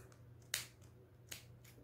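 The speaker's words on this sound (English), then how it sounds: "we're going to cut our pom-poms apart on this side and then come and cut them through on this side" Sharp scissors make two crisp snips through yarn on a pom-pom maker, with a short gap between the cuts, heard close and fairly quiet with no talk.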